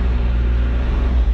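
A Hyundai excavator's diesel engine runs steadily on a hillside, a loud, close, continuous low rumble with a slight wavering throughout.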